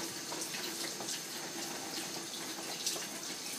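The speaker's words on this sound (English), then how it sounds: "Now I'm just going to rinse the tongs." Tap water runs steadily into a sink while tongs are rinsed beneath it, a close, even splashing rush with no talking.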